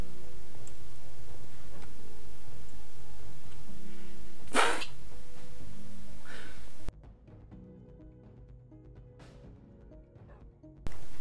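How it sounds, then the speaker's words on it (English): A single sharp, loud human sneeze bursts out midway through, with a quiet ticking room ambience around it that drops away into near silence afterward. "that sneeze snuck up on me"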